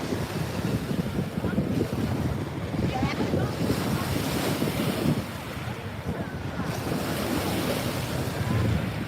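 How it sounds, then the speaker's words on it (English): Chilly wind blowing at Lake Wakatipu in Queenstown, New Zealand, a steady loud rush and buffeting against the microphone, with water lapping underneath, continuous throughout. "the wind's just starting to kick again."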